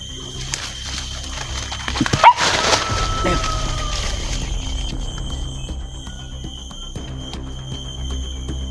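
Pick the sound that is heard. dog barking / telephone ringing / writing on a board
dog barking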